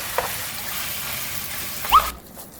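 Glass noodles (dangmyeon) stir-frying in a pan for japchae give a soft, steady sizzle and hiss, with a brief louder scrape near the end before the sound cuts off.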